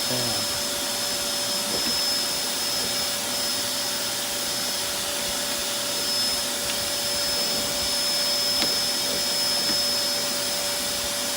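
Vacuum cleaner sucking up sawdust in a woodworking space, a loud steady whooshing roar with a constant whine, close and uninterrupted.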